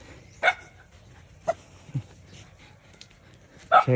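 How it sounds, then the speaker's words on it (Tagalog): A few sharp dog barks ring out at a distance on Cagbalete Island, spaced irregularly, with a louder double bark near the end against a quiet background. "May mga aso."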